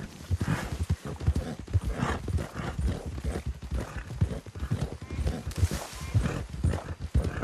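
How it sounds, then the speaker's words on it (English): Horse hooves clop in steady, uneven bursts in Red Dead Redemption 2, with an occasional whinny mixed in over a continuous game soundscape. "Don't want the horses clopping around outside the window."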